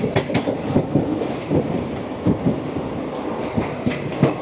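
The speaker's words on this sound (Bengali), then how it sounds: "আমাদের ট্রেন পার্ক হচ্ছে চেঙ্গাইল স্টেশন" Passenger train rolling along rails on a route toward Puri, rhythmic clickety-clack of wheels over rail joints repeating steadily at close range, with a constant rumble of the carriage underneath.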